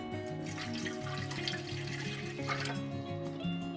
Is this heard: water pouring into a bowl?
yes